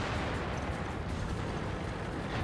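The large-caliber gun of an FV215b (183) tank firing in World of Tanks, a dense, rumbling roar of cannon and explosion noise that holds steady for the whole span with no talking.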